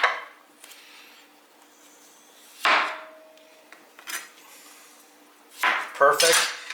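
A knife chops potatoes on a cutting board in a home kitchen: a few sharp, separate knocks with long quiet gaps between them, close by and fairly loud, with no talking.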